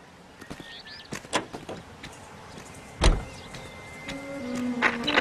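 A 1940s car in the video game LA Noire pulling away, with a door thump, mechanical clicks and then a low engine note rising as it starts to drive, fairly quiet and close.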